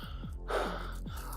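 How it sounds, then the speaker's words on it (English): Heavy open-mouthed panting of a tired soccer player during sprint recovery, a couple of loud rasping breaths close to the ear with a strong gasp in the middle, likely a voice demonstrating exhausted breathing. "mouth open, big heavy panting"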